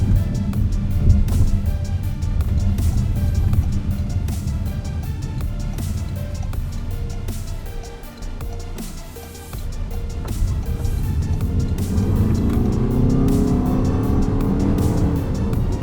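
2026 Toyota RAV4 Hybrid accelerating during a test drive, a steady broadband road and engine drone heard from inside the cabin that dips briefly, then swells again as the crossover pulls harder.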